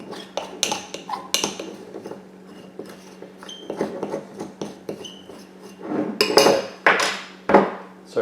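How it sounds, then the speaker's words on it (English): A spoon or spatula scraping sticky carp paste bait off the sides of a mixing bowl, giving close, irregular scrapes and clinks against the bowl with no talking. "Let me scrape around here, because a lot of that's sticking to the bowl"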